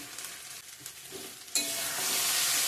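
Ground cumin, coriander, turmeric and chili are stirred in a pan, and a splash of water sets off a sudden, sustained loud sizzle over the scraping of the stirring.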